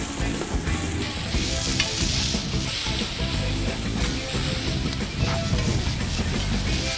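Onion and garlic sizzle loudly and continuously in olive oil in a pan, a dense, steady frying crackle with occasional stirring, while a rib eye with onion and Dijon mustard sauce is prepared.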